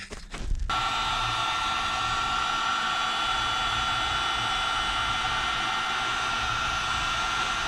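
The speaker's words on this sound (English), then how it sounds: "let me get my heat gun out" Heat gun warming a damaged aluminum cylinder head from a Yamaha YFZ450, a steady loud blowing roar running without a break after a brief clatter at the start.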